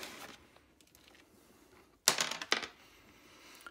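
Wire or blade slicing through a block of pottery clay, two short, sharp cutting strokes close by after a quiet stretch.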